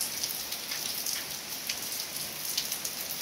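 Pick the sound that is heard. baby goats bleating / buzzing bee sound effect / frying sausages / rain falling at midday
rain falling at midday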